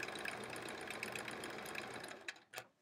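A sewing machine doing free-motion quilting stitches runs in a fast, even whir of closely spaced needle strokes, then slows and stops with a couple of final clicks.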